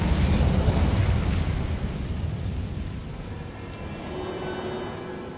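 An Incendio fire spell cast in Hogwarts Legacy bursts out as a heavy, rumbling whoosh of flame. It starts loud and slowly fades into a lower crackle, with no voices over it.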